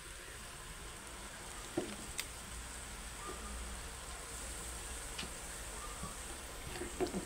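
Chicken breast pieces fry in hot oil with a faint, steady sizzle, broken by a few soft clinks and taps from a nearby pan or utensil.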